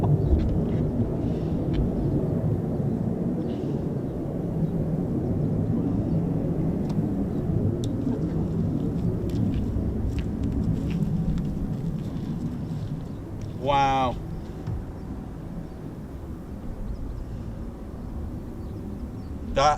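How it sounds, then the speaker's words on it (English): A Eurofighter Typhoon FGR4 takes off at RAF Coningsby with afterburners lit, a broad continuous distant roar sustained throughout, while spectators talk faintly and one exclaims over it. "sometimes they can request a performance takeoff and it literally just means afterburners"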